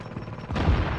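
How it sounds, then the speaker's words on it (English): Turret gunfire from the video game The Division rattles out as a dense, continuous burst of rapid shots lasting about a second, swelling louder and heavier toward the end. "That turret's still doing work."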